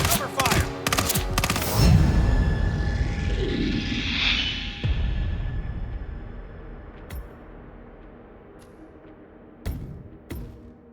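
Gunfire in the video game Hitman 3, a rapid burst of sharp shots at the start, then a whooshing swell and a few scattered loud cracks later against a quieter background.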